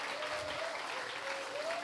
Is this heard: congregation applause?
yes